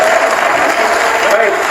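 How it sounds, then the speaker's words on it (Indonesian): A press conference audience applauds Krista, brisk close clapping running throughout the brief moment, mixed with crowd noise and a voice in the room. "Luar biasa, tepuk tangan untuk Krista."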